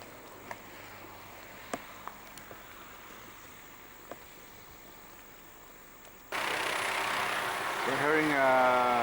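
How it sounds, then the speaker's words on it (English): Near the Pohutu Geyser in New Zealand, a helicopter engine before take-off starts suddenly partway through as a loud steady whine and roar, after several seconds of quiet background with faint clicks. "We're hearing a helicopter in the background."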